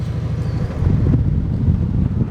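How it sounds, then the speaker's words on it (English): Gusty wind buffets an outdoor microphone in a steady low rumble that swells louder partway through, with no voices over it. "Oh, a little windy out here."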